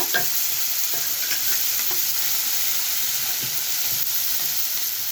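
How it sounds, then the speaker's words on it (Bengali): Onions and spices, with poppy seed and mustard paste, fry in oil in a pan for a Bengali eggplant dish, a constant close sizzle broken by occasional scrapes of stirring. "আমি পেঁয়াজগুলো পুড়ে দিয়েছি দিয়ে দিলাম এক এক করে মশলাগুলো দিয়ে দেবো পোস্ত সর্ষে বাটা"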